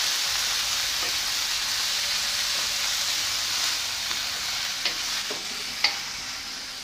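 Garlic and onion sizzling in a pan during stir-frying, a steady loud hiss with a few light clinks and scrapes of the spatula toward the end.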